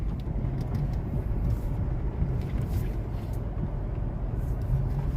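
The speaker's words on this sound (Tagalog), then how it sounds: "Ayan, may kasalubong pang truck." An oncoming truck rumbles past at close range, a steady low engine drone with road noise throughout.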